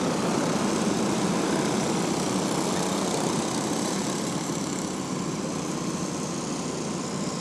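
Race cars circle a raceway under a caution flag, a steady, dense engine roar droning continuously at moderate distance without a break.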